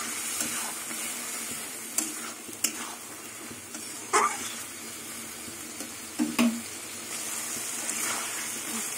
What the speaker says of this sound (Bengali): আর ভাজা মশলাটা দিয়ে কিছুক্ষণ কষিয়ে নেবো